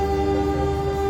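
Doho passenger train passing at Sidoarjo station in Indonesia, with a loud sustained horn tone held over a steady rail rumble throughout, no voices.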